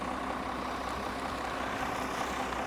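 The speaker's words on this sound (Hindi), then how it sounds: "ट्रैक्टर से मिट्टी खाली हो रही है" A tractor working at a well digging site emptying excavated soil, a steady broadband engine drone running continuously and fairly close throughout, with no voices.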